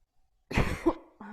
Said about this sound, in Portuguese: fiquei com pigarro na garganta